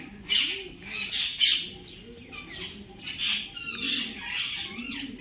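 Parrots give loud, close, harsh squawks in repeated bursts while pigeons coo low and soft beneath them, a busy mixed chorus of birds calling outdoors.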